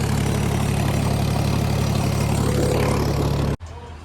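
A Swaraj 733 tractor engine runs with a Grimme potato planter, a loud, steady low diesel rumble that drops away abruptly near the end.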